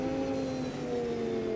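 A 1990 Formula One car engine in the Automobilista 2 racing game, during the German Grand Prix, holds a steady, loud, high-pitched whine with a sustained tone throughout.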